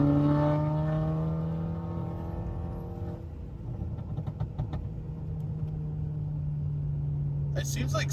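A VW Tiguan converted to a DQ250 DSG gearbox accelerates in sport mode. The engine drone rises steadily in pitch, breaks off at a shift, then settles into a lower hum. The sound is heard from inside the cabin, under some background noise.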